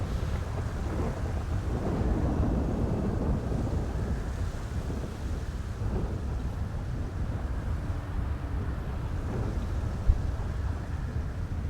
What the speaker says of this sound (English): Got one lightning strike.